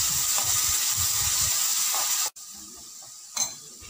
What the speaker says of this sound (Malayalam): ഇനി ചെറിയ അളവിൽ വെള്ളം ചേർത്ത് കൊടുക്കാം.